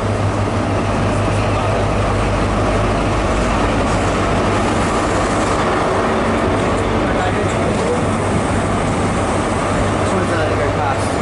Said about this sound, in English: When this HST arrives, let's wait for it to go past.